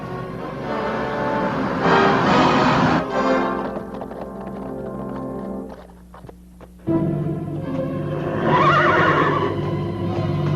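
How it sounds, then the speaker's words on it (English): Horses on a Western film set from 1949, whinnying loudly and close by in long shrill neighs with a busy clatter of hooves and movement beneath. "Get the horses."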